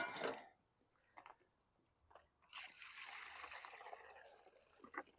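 Liquid poured out of a 2018 Toro Recycler 22-inch lawn mower that is running rough, a brief splash at first, then a longer steady trickling pour after a pause, with faint handling noises in between.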